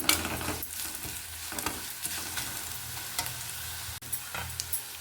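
Curry leaves and turmeric powder frying in hot oil as a tempering, stirred with a spoon: a steady close sizzle with scraping stirs at intervals, no talk.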